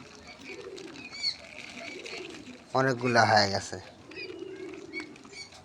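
Pigeons kept at a shop coo faintly in the background while someone talks over them, with a brief louder burst of voice in the middle.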